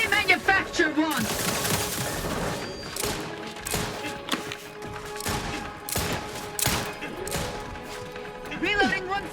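Combat gunfire in the video game The Outer Worlds 2, with bursts of shots and sharp impacts scattered through the fight, mixed with game voices and other battle noise.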